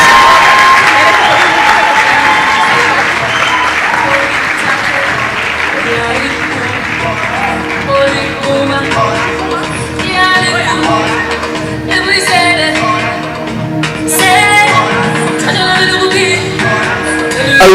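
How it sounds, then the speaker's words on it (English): Audience applause at a national research festival in Kenya, steady clapping with some cheering as winning students and their teacher come up to the stage, a voice speaking over it throughout. "A round of applause for our winners"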